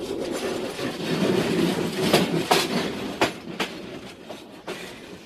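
A passenger train on the Sylhet to Dhaka route rumbles steadily along, its wheels beating out a sharp, irregular clickety-clack over rail joints, heard up close with a low rolling drone underneath.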